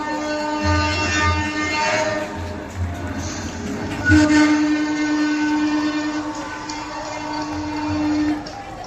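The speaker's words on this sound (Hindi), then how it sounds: "अपनी ट्रेन का डिपार्ट हो चुका है" Amrit Bharat Express on its inaugural Howrah to Anand Vihar run pulling out at a station, with rumbling wagons, a long sustained horn blast and a second horn later, amid crowd noise and voices.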